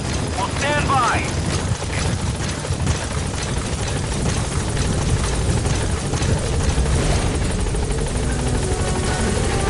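The Pequod helicopter landing at a landing zone in Metal Gear Solid 5: a loud, continuous rotor thrum and engine whine throughout, with radio-style voices speaking over it.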